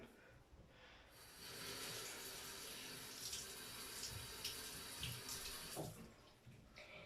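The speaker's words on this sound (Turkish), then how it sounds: "Şimdi yüzümü yıkayacağım." A bathroom or sink tap runs while a face is washed, a close, steady rush of water that starts after about a second, splashes unevenly as hands move, and cuts off near the end.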